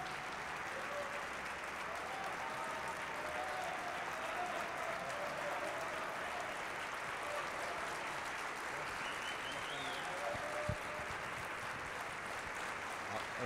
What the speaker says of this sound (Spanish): Con este enorme aplauso, de pie, por supuesto, la imagen lo dice todo.